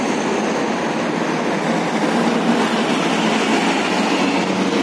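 Riding aboard an old Medan Jaya bus in Daun Sirih livery, registration BK7871, headed to Medan, a loud, steady interior drone of engine and road noise rumbles on without pause, with no talking.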